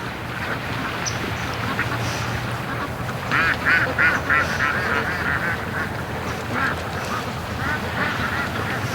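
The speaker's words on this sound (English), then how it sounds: "Oh, look at the ducks are taking their time here." Free-range ducks quack in a loose series of nasal calls as they straggle out of a creek on a morning rush to a lake, several birds close by over a steady outdoor background hiss.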